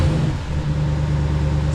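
A Dodge Durango SRT 392 V8 idles steadily with its exhaust cutout valves closed, a deep, continuous low rumble close by with no one speaking.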